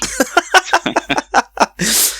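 A quick string of short voiced bursts, then one breathy sneeze bursts out at the end, close and fairly loud.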